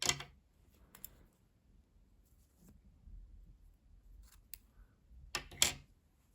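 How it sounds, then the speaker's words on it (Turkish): Scissors snip crochet yarn, a few sharp, close metallic clicks spread out against near silence. "İpliği kesiyorum."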